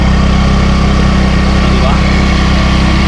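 A 2026 Yamaha Gravis 125 V3 scooter's air-cooled engine idles steadily and loudly up close, with a brief voice over the drone.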